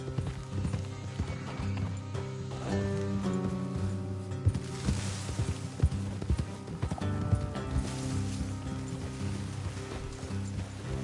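Several horses in Red Dead Redemption clop along in a quick galloping rhythm, hooves thudding over a low rumble, with a whinny and some mechanical rattling mixed in.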